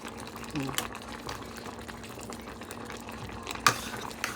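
Beef sinigang broth with okra bubbling in a pot, a steady soft seething boil up close with occasional clinks and a sharp utensil tap, under a faint background hum.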